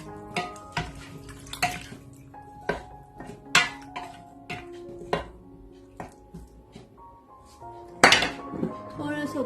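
A metal spoon stirs chana dal gosht in a pressure cooker pot, producing repeated close clinks and scrapes against the metal at an uneven rhythm, with one sharper clatter near the end.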